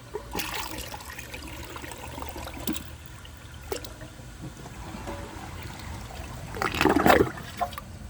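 A 2007 Crane Elite toilet flushes on its own: a quiet watery trickle and scattered clunks give way to a louder gurgling rush near the end, with no voices.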